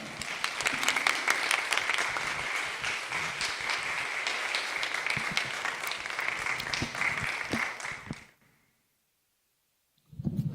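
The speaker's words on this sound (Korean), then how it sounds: "우리 큰 박수로 환영했으면 좋겠습니다" A church worship-service audience gives a pastor a big round of welcoming applause, dense and steady for about eight seconds, then it stops into silence before a voice begins.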